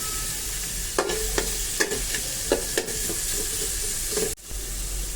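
Prawns and chopped onions frying in oil in a village kitchen, a loud continuous sizzle broken by several sharp scraping stirs of a spatula against the pan, with one abrupt pause near the end.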